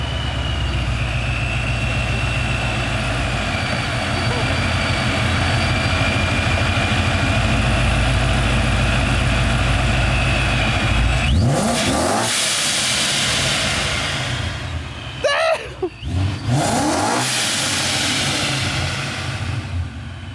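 A BMW 335i engine idles with a loud, steady rumble and hiss, then revs sharply several times, rising and falling in pitch.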